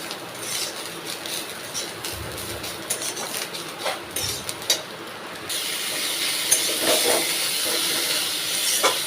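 Taro chunks fry in hot oil in a home kitchen pan, stirred with a metal utensil: a steady broad hiss with occasional scraping clinks, growing louder and brighter partway through.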